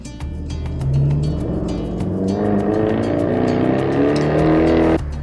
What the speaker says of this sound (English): What's up with people not having mufflers on their car?